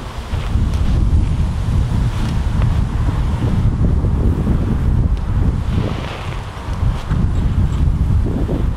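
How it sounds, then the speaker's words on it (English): Strong wind buffets the microphone in heavy, continuous gusts, a loud rumbling roar that dips briefly before surging again. "it is windy, so I'm interested to see how this feels in the wind too"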